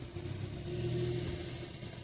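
A Citroen C3 pulls away slowly, its engine giving a steady low hum with a faint rise, close and continuous, with no talking.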